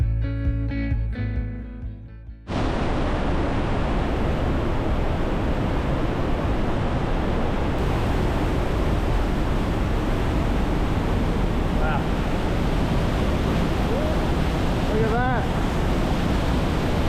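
Thundering waterfalls in the Swiss Alps, on a hiking route between Grindelwald and Zermatt, roar loud and close. After a brief stretch of music, a dense, unbroken wall of rushing water holds steady to the end.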